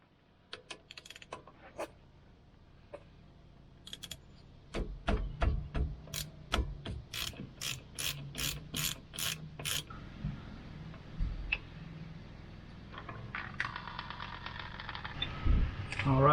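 Ratchet clicking while removing a brake line bolt on a 1997 Jeep Wrangler with a sticking brake caliper: a quick run of sharp metallic ticks, then a slower series of clicks amid light clanks and shuffling.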